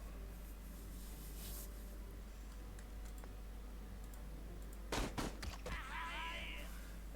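A short burst of gunfire in the video game Pathway, a few sharp close shots in quick succession over a steady low hum and faint background clicking.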